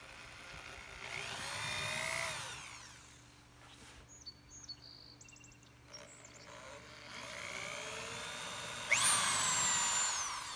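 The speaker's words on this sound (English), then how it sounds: "drill a small pilot hole in the top of both of them" Small pilot hole drilled into the top of a cedar birdhouse: two bursts of power-drill whir rising and falling in pitch, separated by quieter handling clicks, close and moderately faint.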